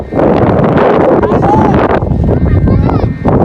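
Strong wind buffets the microphone in loud, rumbling gusts outdoors during kite flying, with faint voices underneath.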